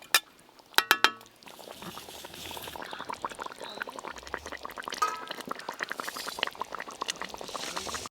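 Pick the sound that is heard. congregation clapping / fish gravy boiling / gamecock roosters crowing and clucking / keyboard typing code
fish gravy boiling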